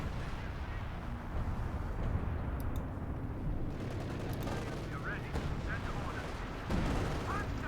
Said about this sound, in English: Carter firing off there from the base, the 25-pounder gun